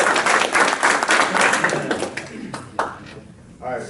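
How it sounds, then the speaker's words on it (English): An audience claps to welcome a speaker up, dense loud applause at first that thins into scattered claps, with a voice speaking over the fading end. "Let's welcome up Michael with a great big round of applause."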